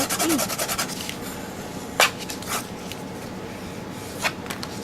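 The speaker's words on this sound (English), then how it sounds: "Now I'm going to turn this over again, and I'm going to use my score tool." Folded paper being scored with a score tool, short scraping rubs near the microphone with a couple of sharper strokes and pauses between, heard close and fairly loud.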